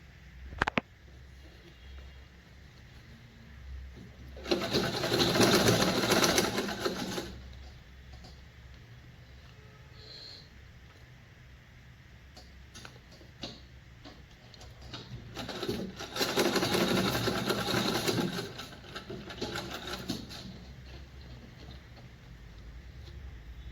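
Sewing machine stitching a ruffle sleeve, two bursts of rapid whirring stitching a few seconds long, separated by quieter handling noise, close and fairly soft.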